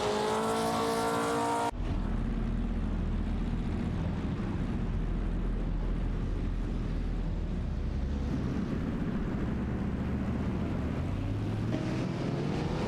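In a racing video game, a Maserati 450S and a Jaguar D-Type duel for position, engines droning in a continuous loud roar that holds steady throughout, with no voices.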